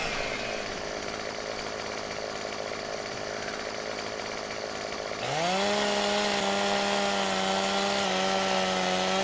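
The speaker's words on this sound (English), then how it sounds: "I'm going to drop a tree with my chainsaw" A chainsaw in the Farming Simulator 2017 video game, cutting down a tree, runs at a lower, rougher idle and then jumps to a loud, steady high-revving whine while sawing, holding that pitch through the rest without talk.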